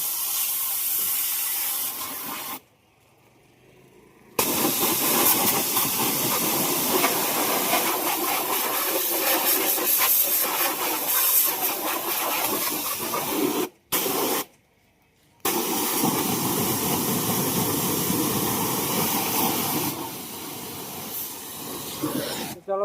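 A high-pressure water spray washes a muddy tractor and its rotavator, a loud continuous hiss running on and off with a couple of brief pauses where the jet stops.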